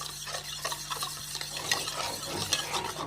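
A spice mixture of salt, turmeric and chilli powder being stirred for hilsa fish, giving soft repeated scraping and light clinks close by, quiet and without talk.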